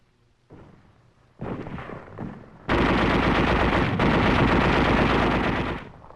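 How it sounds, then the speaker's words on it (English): Tanks and artillery blast street barricades and pillboxes in the Praga suburb during 1944 wartime fighting: a few scattered reports, then a loud, sustained roar of heavy gunfire and explosions continuing for several seconds before tapering off. "street barricades and pillboxes are blasted by tanks and artillery"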